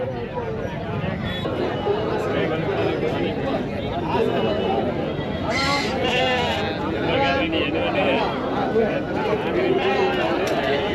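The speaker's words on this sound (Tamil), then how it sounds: "இன்றைக்கி ஆட்டு சந்தைக்கு வந்துருக்குறோம்" Goats bleating at a busy goat market in Anthiyur, with repeated bleats scattered through a dense crowd of chatter and voices talking nearby.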